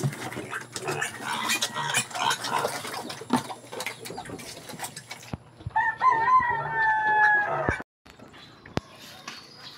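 Farm chickens with a rooster crowing amid general barnyard noise, the crow rising in a couple of drawn-out calls partway through, fairly near, with rustling and scattered clatter around them.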